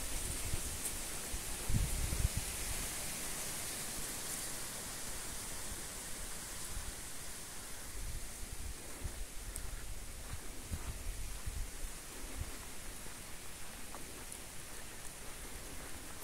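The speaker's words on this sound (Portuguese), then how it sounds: "Vento e ventania" Wind blows steadily outdoors around midday, a constant broadband rush with faint rustling and occasional low gusts and buffets, with no voices.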